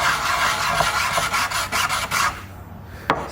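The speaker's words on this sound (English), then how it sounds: "I usually like to take this side and put it down and sand it just to make sure it's as smooth as possible." Sanding the flat side of a 3D printed ukulele neck or head piece, rapid rough rasping strokes that come close and loud, then break into a few short scrapes before a final single rub.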